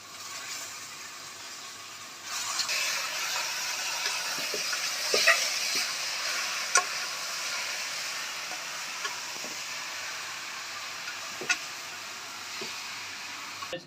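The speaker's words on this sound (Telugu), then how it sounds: "మనం చికెన్ వేస్తున్నాం" Chicken sizzles steadily in a hot pan as it is stirred, a constant close frying hiss with occasional scraping clinks from the spoon, no voices.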